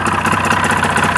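A tractor engine idles with its revs sagging because of an air leak at the PTO seal, a loud, close, rough and steady rumble with slight pulsing, with no talking.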